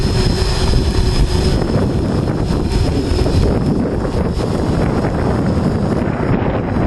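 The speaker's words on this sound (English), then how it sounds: "we do have quite a breeze going here" Strong breeze buffeting the microphone outdoors, a continuous loud roaring rumble with gusty swells and no pauses, while a drone flies nearby.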